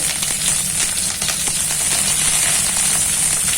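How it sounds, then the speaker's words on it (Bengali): Cauliflower frying in hot oil over a green chilli and fenugreek tempering, a loud, steady close-up sizzle with a few light crackles and pops running throughout, with no voices. "আগে ফুলকপিটা দিয়ে একটু ভেজে নেবো।"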